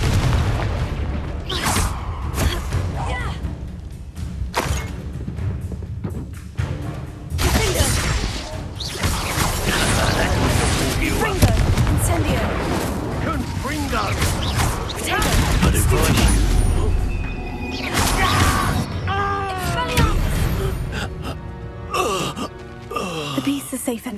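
Confringo fire spells burst repeatedly in Hogwarts Legacy, loud booming explosions and crackling blasts mixed with creature groans and battle effects, dense and chaotic throughout with a voice speaking briefly.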